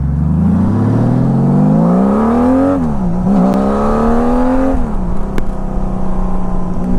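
A motorcycle engine runs loud and close, holding a throaty revving drone that climbs, dips sharply near the middle, climbs again and drops once more toward the end, with no talking.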